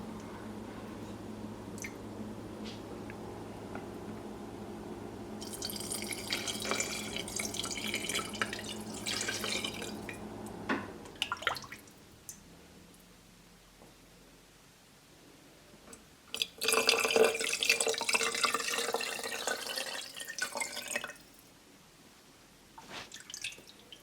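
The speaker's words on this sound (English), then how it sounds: "I'm adding the broth" Rabbit broth is poured into a quart canning jar in two pours, a longer splashy stream followed by a shorter one, close and fairly quiet, with drips and small clinks between.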